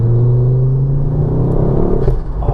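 A Mountune MR375 tuned Ford Focus RS engine revving up to about 3,500 rpm, a loud, close, steady low rumble that rises as the car pulls away, with no voices.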